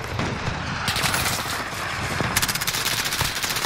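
Rapid gunfire rattles through a video game match, dense bursts of shots that run continuously, moderately loud, without speech over them.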